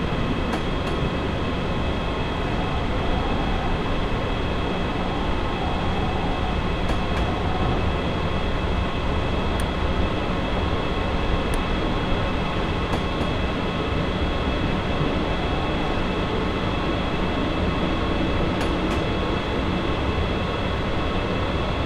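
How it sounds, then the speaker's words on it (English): Steady, continuous rumble of a train coasting with power idled in Train Simulator 2015, on a route from Manchester London Road to Sheffield, with a constant wheel-and-rail drone and faint high clicks, no voices. "I'm going to idle the power and allow the train to coast"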